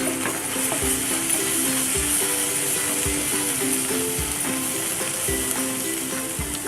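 Sausage fried rice being stirred with soy and chili sauce in a hot pan, a steady loud sizzle with regular scraping strokes of the spatula and faint background music.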